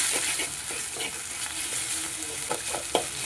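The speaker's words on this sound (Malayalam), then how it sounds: "നന്നായിട്ട് ഇളക്കി യോജിപ്പിച്ച്" Egg and drumstick leaves being stirred in a hot pan for thoran: a steady loud sizzle with repeated spatula scrapes and taps throughout, close up.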